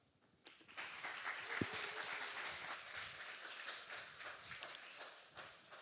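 Congregation applause at a Korean church revival service, starting abruptly after a brief quiet moment and swelling into steady clapping that gradually tapers off, with no speech over it.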